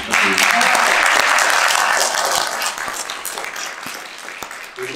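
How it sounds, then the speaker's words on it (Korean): Audience applause follows a lecture on the future and unification of the Korean peninsula, with loud, dense clapping that gradually thins out over several seconds. "다시 한번 큰 박수 부탁드립니다."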